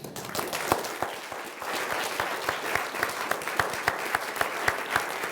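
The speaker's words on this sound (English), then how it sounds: "give Edith Hall a round of Stanford applause" Audience applause at the close of a Stanford Humanities Center lecture on Aristotle by Edith Hall, a dense, steady clapping from a full hall that continues throughout without any speech.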